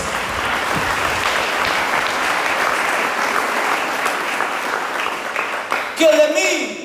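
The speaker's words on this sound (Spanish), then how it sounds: "Demos aplauso a la gloria de Dios." Church congregation bursting into loud, dense applause that holds steadily for several seconds before fading out as a voice begins to speak near the end.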